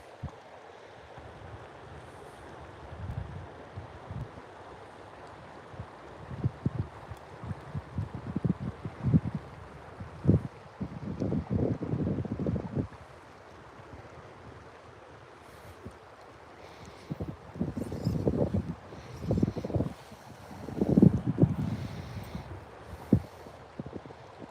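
Gusty wind buffets the microphone outdoors during fly fishing, with low rumbling bursts that come and go in irregular waves over a steady faint background, no voices.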